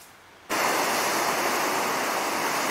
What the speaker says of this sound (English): Oh, these waves are just spectacular, aren't they?